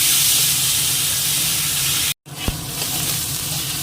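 Potatoes and green peas with whole cumin sizzle loudly in hot oil, a steady close frying hiss that briefly cuts out near the middle before resuming with a small clatter.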